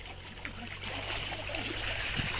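Water poured into mud outdoors, a faint steady trickling and sloshing with a quiet splash near the end, no talk over it.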